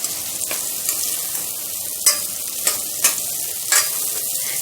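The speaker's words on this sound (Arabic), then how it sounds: "في التوقيت اللي البطاطسايه فيه بتاعتي بتتشوح" Potatoes sauté in a pan for potato vermicelli soup, giving a constant soft sizzle broken by several sharp stirring scrapes and clacks of a utensil, with no talking.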